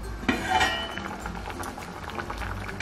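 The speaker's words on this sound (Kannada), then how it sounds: "ಮುಳ್ಳಂಗಿ ಸಾಂಬಾರ್ ಈಗ ಚೆನ್ನಾಗಿ ಕುದಿದಾಗಿದೆ." Radish sambar bubbles at a steady boil in a pot, a continuous close simmering gurgle with a brief clink of metal near the start and no talking.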